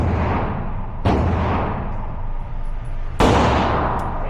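Glock 19X pistol with a Ramjet compensator at a shooting range, two loud close shots a couple of seconds apart, each a sharp crack followed by a booming outdoor decay.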